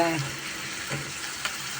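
Chopped onions sizzle and fry in a pan for Turkish menemen, a steady close hiss with a brief stir or clink partway through.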